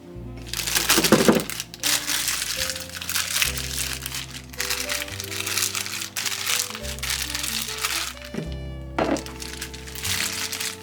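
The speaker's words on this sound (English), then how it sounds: "take a Ziploc bag and put it in a large glass" A plastic Ziploc bag crinkles and rustles in close, irregular bursts as it is handled and fitted into a large glass, heard over background music.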